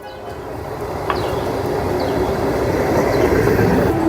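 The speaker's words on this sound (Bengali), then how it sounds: "বলাগড় স্টেশনে ট্রেন ইন করে গেছে" A Katwa–Howrah local train pulls into Balagarh station, a loud steady rumble of rolling wagons with faint squeals and clanks building as it draws close.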